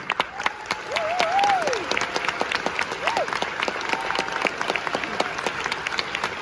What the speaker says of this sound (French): Présenté en dernier pour avoir un crescendo d'applaudissements